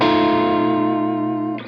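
An electric guitar with single-coil pickups rings out one sustained chord through a TWA Hot Sake distortion pedal, bright and close, fading slightly before a short scrape at the end.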